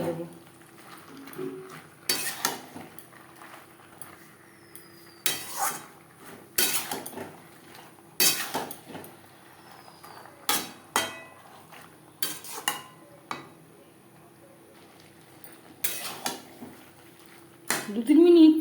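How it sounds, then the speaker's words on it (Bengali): Potatoes stirred with spices in a cooking pan for a bhetki fish curry, with repeated clanking and scraping strokes of a metal spoon against the pan, close and intermittent, separated by quiet gaps. "মশলার সাথে আলু বেশ ভালো করে মিক্সড করে দেবো"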